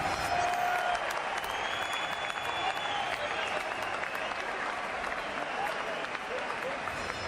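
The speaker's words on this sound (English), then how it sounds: "Ladies and gentlemen, a round of applause." Boxing crowd applauds and cheers loudly after a WBO World Light Heavyweight Championship fight in Cefn Forest, Wales, a dense, sustained roar of clapping with whistles and a voice over it.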